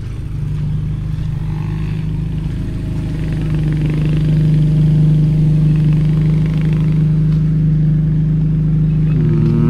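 Many cars and other vehicles idle in a crowded, congested street near a flood-prone river area in Noveleta, Cavite, a loud steady engine drone close by that swells slightly partway through, with no talk.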